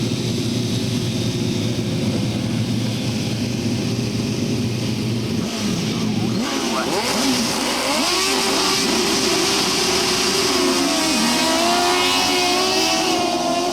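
Grasstrack racing motorcycles roar away at the start of a race. A low engine rumble builds into a loud, dense chorus of high revving engines with rising and falling pitch sweeps as the pack accelerates past.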